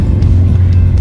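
Fiat 500 labouring up a steep 32% gradient hill in first gear on Madeira: a loud, steady low engine drone heard from inside the car, brief and continuous.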